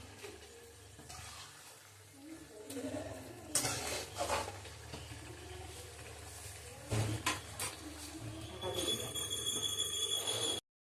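Fish being stirred and sautéed in a pan with a little sugar, cooking down until the liquid dries: steady scraping and clinking of a utensil, with soft sizzle and a few louder knocks throughout.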